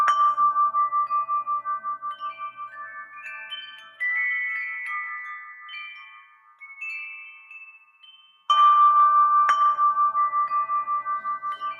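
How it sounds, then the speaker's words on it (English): Chimes ring out in clear, bell-like tones, one sustained note and then a rising sequence of struck tones, followed by a loud new strike that rings and slowly fades, with no other sound. "This is chimes."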